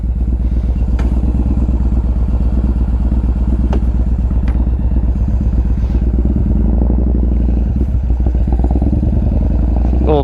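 A motorcycle engine runs steadily and loudly close by, a dense low rumble throughout with occasional clattering knocks and thuds over it; no one speaks.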